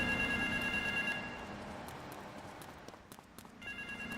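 A telephone ringing in Grand Theft Auto III on PS4, a steady electronic ring heard at moderate distance under game ambience, fading for a stretch mid-clip then returning louder.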